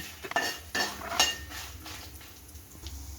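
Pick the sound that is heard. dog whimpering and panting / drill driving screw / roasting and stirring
roasting and stirring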